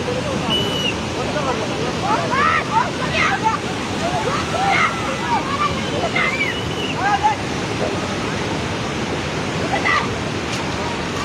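A flood-swollen river in the Nalgad area of Jajarkot roars in a loud, unbroken broadband rush nearby, while people talk over it throughout.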